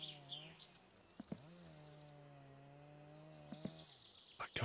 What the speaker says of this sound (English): That guy with his chainsaw is so annoying.